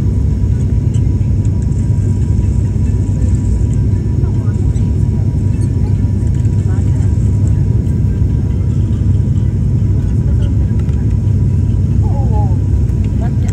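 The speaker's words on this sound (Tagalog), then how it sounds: "Ayan po, pababa na yung eroplano" Steady, loud low roar of engines and air inside a passenger airplane cabin as it descends on a short 30-minute flight from Jolo, Sulu, continuous throughout with faint murmuring and small clicks.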